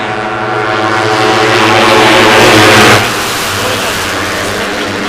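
Racing motorcycles including a TVS Apache RR310 and a Yamaha R15 roar past on a national championship circuit, a loud continuous engine drone that swells to a peak near the middle and then eases, with no break.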